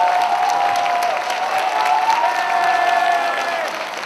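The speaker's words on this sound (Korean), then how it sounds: "부천대 박수!" Loud applause and cheering from a crowd at an evening worship service of a student Christian fellowship retreat, continuous clapping with some shouts, sustained music tones running beneath, easing slightly at the end.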